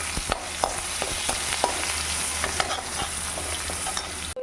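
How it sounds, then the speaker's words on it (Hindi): Chopped onions hitting hot oil in a tempering pan, a continuous close sizzle with scattered crackles and stirring scrapes throughout, no voices. "इसमें मैं अब कटे हुए प्याज डाल दूँगी।"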